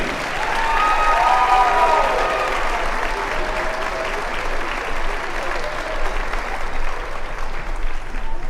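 A gym crowd at a girls' high school basketball game between Greater Latrobe and Connellsville gives the seniors a long, sustained round of applause, dense clapping with an announcer's voice briefly over it.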